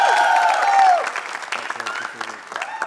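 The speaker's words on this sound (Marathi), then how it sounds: "जोरात टाळ्या वाजवा एकदा, पुन्हा एकदा मस्त." Studio audience at a comedy talk show claps loudly for a few seconds, the applause thinning into scattered claps, with a host's voice briefly heard over it at the start.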